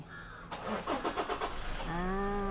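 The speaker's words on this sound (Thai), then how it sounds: "engine start แล้วนะคะลูกค้าเหยียบเบรกแล้วก็ กด start ได้เลย" A Toyota Fortuner Legender 2.8 starts with its push button: a short whirring crank leads into the engine catching and settling to a steady idle, close by and fairly loud.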